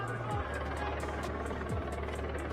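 A news helicopter passes over a street protest in Minneapolis, Minnesota, its rapid, steady rotor thump pulsing above a dense wash of crowd and traffic noise, with faint voices mixed in.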